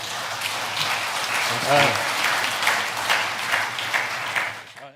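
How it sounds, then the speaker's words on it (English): A conference audience applauds the panel at the close of a discussion session, dense sustained clapping throughout with a voice briefly heard over it. "Let's give a warm applause to our panel."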